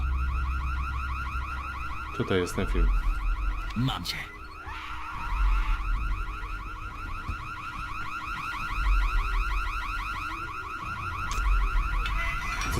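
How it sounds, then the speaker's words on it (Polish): Car alarm in the zombie game Dying Light wailing continuously in a repeating electronic pattern, loud and steady beneath brief speech and scattered in-game thumps and footsteps. "Przydałoby się ten alarm wyłączyć jakoś."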